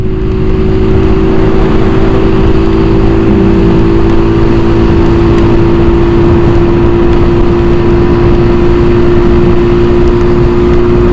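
A Honda Wave 125i motorcycle engine runs steadily on a test ride, a loud continuous drone with a strong steady tone and rough low rumble throughout, no talk.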